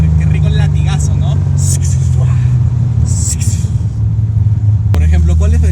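A Toyota Supra MK2's turbocharged 1JZ engine runs at a deep, steady idle close by, rumbling continuously, with a sudden sharp snap near the end.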